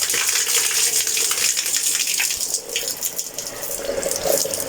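Water runs steadily from a tap at Gowthari Munai, Poonakary, a continuous hissing splash that stays loud throughout, with no voices.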